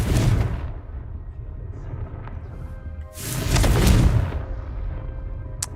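Fire-spell explosions in the Hogwarts Legacy video game: a loud rumbling blast at the start fades, then a second, heavier booming burst swells and dies away, with close, full low-end impacts.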